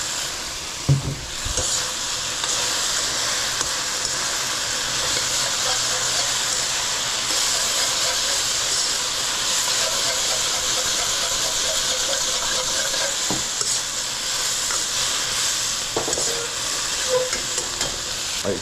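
Tofu sizzles and hisses loudly in a hot wok as it is stirred, a continuous bright frying crackle with a few clanks of the utensil against the pan.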